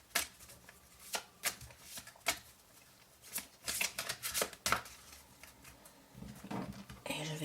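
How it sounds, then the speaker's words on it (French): Tarot cards shuffled by hand, close and quiet, a string of crisp riffling and slapping bursts in irregular rhythm ending in a longer riffle, with a voice talking in between. "Je vais mélanger ces autres cartes qui ont déjà été mélangées."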